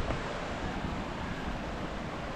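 Loud, continuous rushing water from a creek running high after heavy rain, a broad steady roar close by with no pauses.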